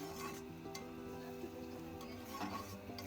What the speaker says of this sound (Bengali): এদিকে পেঁয়াজ ভেজে নিচ্ছি।